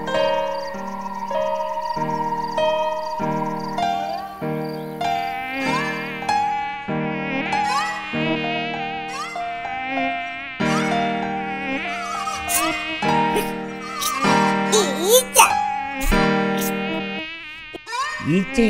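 A cartoon housefly buzzes continuously in an animated show, its whine rising and swooping in pitch over bright, playful background music with tinkling tones.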